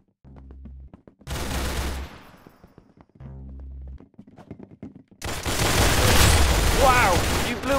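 Rapid bursts of gunfire in the game Arsenal, a short burst, a longer volley, another burst, then heavy sustained shooting mixed with an excited voice.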